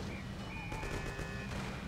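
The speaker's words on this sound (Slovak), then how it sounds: "Konečne si začal strieľať, Pauli." Gunfire from the video game Mafia: several quick shots crack over a constant game backdrop of engine hum and ambient noise, with no talking.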